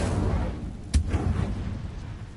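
A fire spell cast in the video game Hogwarts Legacy bursts out as a single sharp whooshing blast, with a fainter echo after it, over a steady low game soundscape.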